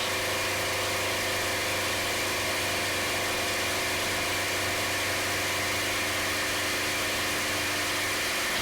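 A P-51 Mustang's piston engine holds a steady, loud drone at takeoff power on the runway, a continuous even roar with strong harmonic hum and no speech over it.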